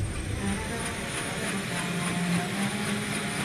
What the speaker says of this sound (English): Landing into hostile territory, a helicopter is a big target.